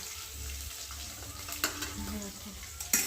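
Spiny gourd slices frying in a pan give a soft steady sizzle with occasional stirring scrapes and a couple of sharper clinks near the end, no voices.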